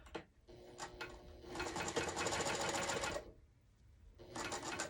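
A sewing machine stitches a quilt in fast, steady mechanical chatter. It starts in short bursts, runs continuously, pauses briefly and then resumes, fairly close and at a moderate level.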